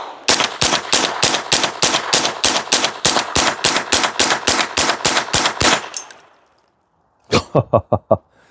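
AR rifle fitted with a CMMG .22 LR conversion kit firing a rapid string of about twenty sharp, evenly spaced shots, then after a brief pause a quicker burst of five or six more, loud and close.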